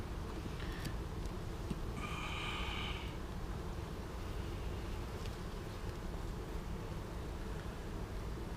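Honeybees from a package colony hum steadily while the second hive box is opened for inspection, a dense, close, continuous buzz with a brief louder swell of individual bees passing near.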